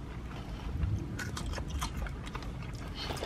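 Someone bites into loaded French fries at a close-up eating session, giving soft crunchy chewing crackles in a quick cluster against a low background hum.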